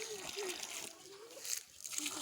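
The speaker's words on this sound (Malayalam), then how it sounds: "വെള്ളം ഒഴിക്കാം." Water splashes and trickles onto young black pepper seedlings in a steady, close wash of sound, while voices, including a child's, talk over it.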